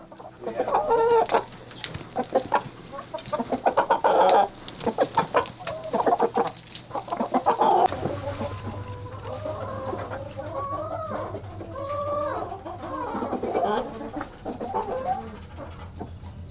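Chickens cluck and murmur steadily in a coop or run, several birds overlapping at close range with a low steady hum underneath and no talk.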